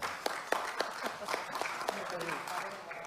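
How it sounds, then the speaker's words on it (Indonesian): Applause rings out in an Indonesian parliamentary committee hearing at the DPR, a burst of individual hand claps with distinct rhythmic strikes and voices murmuring underneath. "Tepuk tangan lagi dong."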